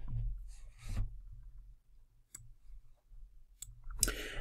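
A mouse click on an OK button in forensic software, a few sharp isolated clicks spaced apart over a low background hum, close and faint.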